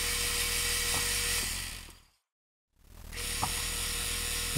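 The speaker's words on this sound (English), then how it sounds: "point cut the 7/16 20 thread, and we'll go most of the way with turning" A metal lathe turning a threaded rod for a 7/16-20 thread, a steady high mechanical whine that fades out to silence and then spins back up again, with a few faint clicks.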